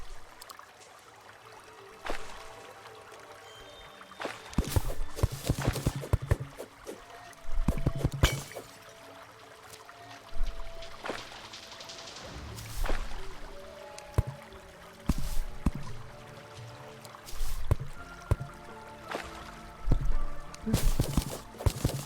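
Water pouring and splashing in Terraria, arriving in irregular bursts of trickling and gushing with sharp clicks between, moderately loud over a faint background.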